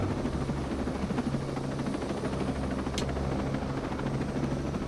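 A helicopter flies in a combat video game, its rotor producing a steady, low, throbbing drone with a rhythmic chop that holds throughout, plus one brief sharp click near the end.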